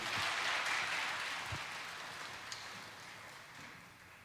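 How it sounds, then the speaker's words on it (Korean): A church congregation at a Sunday scholarship-committee service gives a round of applause, a soft, fairly distant patter of many hands that slowly fades. "다시 한번 큰 박수 부탁드리겠습니다"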